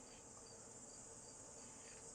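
Crickets chirp in a video game, a thin, steady high-pitched trill that runs unbroken and fairly faint, with no talking over it.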